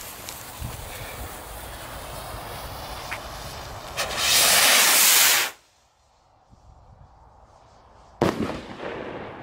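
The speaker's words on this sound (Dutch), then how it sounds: "Die jongen heeft weer de zwaarste pijl van het hele pakket hoor" Firework rockets set off outdoors, a loud hissing whoosh as a heavy rocket launches, then quiet, then a sharp bang burst near the end.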